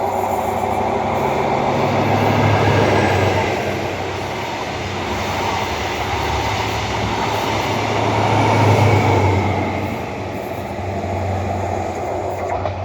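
A train rumbling along the tracks with a steady, swelling roar and faint rhythmic clatter, loud and close throughout.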